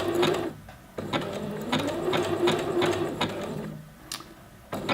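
A sewing machine stitching elastic onto a waistband runs in short bursts, its fast rhythmic mechanical whir and needle clatter close and clear, stopping and restarting briefly, with no talk.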